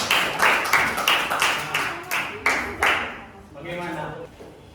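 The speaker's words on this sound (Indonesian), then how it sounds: "Tepuk tangan sekali lagi buat saya" Students in a classroom clap their hands in a series of rhythmic bursts, fairly close and loud, ending with a brief chatter of voices.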